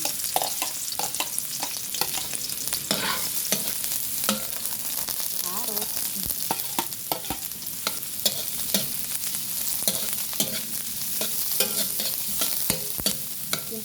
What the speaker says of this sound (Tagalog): Gisa na natin yung onion.